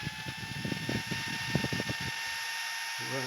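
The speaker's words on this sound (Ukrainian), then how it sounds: "Ось, як ви чуєте, увімкнувся кулер охолодження." A LiFePO4 battery charger's cooling fan hums steadily throughout, with rapid clicking and rattling bursts layered over it before settling into the drone.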